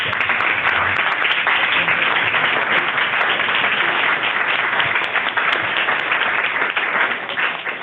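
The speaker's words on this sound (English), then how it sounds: "when we applaud our speakers, we'll give them a standing ovation" Sustained applause from a large audience at a business and health conference session, a standing ovation for the speakers, dense steady clapping from start to finish that eases off slightly at the very end.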